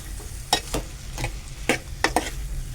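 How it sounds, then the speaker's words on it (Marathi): Spoon stirring a pan of val bean birde curry with onion-tomato masala, several distinct scraping strokes over a soft sizzle, close and fairly quiet, with no talk. "आता मी हे मस्तपैकी ढवळून घेतो परत."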